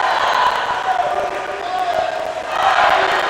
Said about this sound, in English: We're having some cheering contests back and forth here with the Gusties and the Norse men and women.